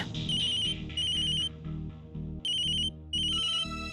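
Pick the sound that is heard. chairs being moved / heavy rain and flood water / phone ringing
phone ringing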